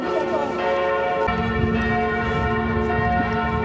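Church bells ring out at Notre Dame in Paris, a cathedral over 800 years old, with steady, sustained tolling that fills the air against a busy background of crowd murmur and faint voices.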